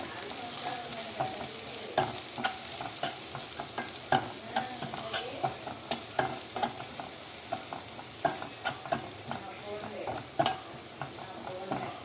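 Amaranth leaves frying with onion, chili powder and garam masala in a pan: a soft steady sizzle with sharp, irregular scrapes of a spoon against the pan, close and quiet.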